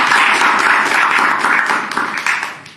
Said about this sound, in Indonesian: Sekarang tepuk tangan untuk Anda.